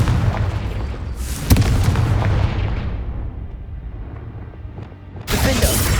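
Fiery spell blasts from Hogwarts Legacy gameplay: a sharp explosive boom early on, a rumbling crackling stretch, then a second loud burst near the end, with no talking.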